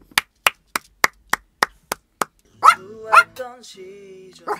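Eight crisp hand claps land in a steady, even rhythm, close and fairly loud, and then a voice begins speaking or singing right after.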